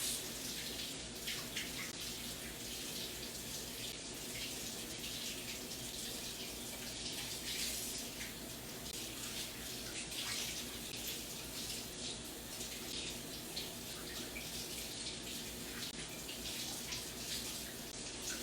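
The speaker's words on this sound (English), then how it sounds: "rinse it a little bit under the sink, and then put it into this pan" Tap water runs steadily into a kitchen sink while corned beef is rinsed under it, a continuous close hiss and splash that stays level throughout with no talking.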